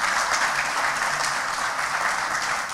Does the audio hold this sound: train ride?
no